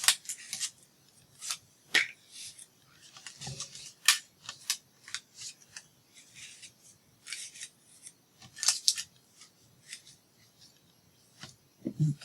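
Scissors snip and slice through paper for card making, in short irregular bursts of crisp cuts with quiet pauses between, close up and without talking.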